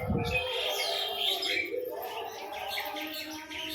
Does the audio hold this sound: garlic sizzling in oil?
no